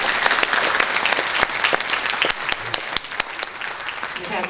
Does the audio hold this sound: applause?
yes